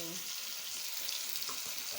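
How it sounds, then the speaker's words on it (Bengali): A curry with capsicum and potato cooks in a pan, giving a constant, close, hissing sizzle that holds evenly throughout, with no talk. "দেখো রান্না বসে গেছে এই যে ক্যাপসিকাম দিয়ে আলু দিয়ে"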